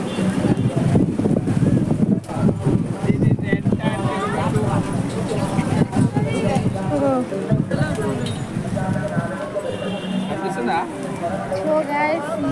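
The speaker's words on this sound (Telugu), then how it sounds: "ఇక్కడ నుంచి వ్యూ క్రేజీగా వస్తుంది. గాలి గిట ఫుల్ వస్తుంది" Strong wind gusts buffet the microphone on a hilltop by a temple and lake embankment, a loud, continuous low roar with rough bursts, while people talk over it throughout.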